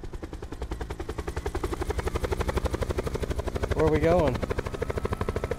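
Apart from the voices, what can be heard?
helicopter flying in video game Call of Duty Black Ops 4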